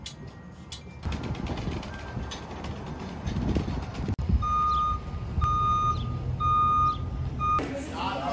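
Reversing beeps sound from a truck delivering a vending machine, a steady series of evenly spaced electronic tones over engine rumble and outdoor noise, with people talking nearby.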